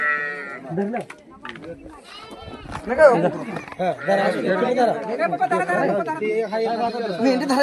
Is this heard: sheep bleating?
yes